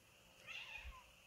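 A cat gives a single faint meow that rises and falls, heard from a distance in an otherwise quiet outdoor spot.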